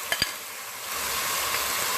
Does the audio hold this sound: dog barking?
no